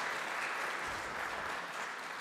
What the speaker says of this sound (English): let's please hear a big round of applause for our sponsors